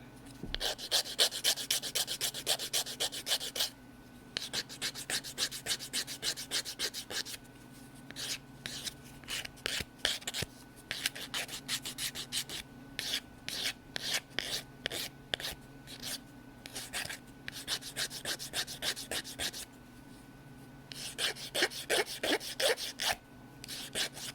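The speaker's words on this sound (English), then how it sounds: "now I always finish that off with the sander" A power sander finishes a wooden piece with quick, rasping strokes that come in long bursts separated by short pauses, steady and close throughout.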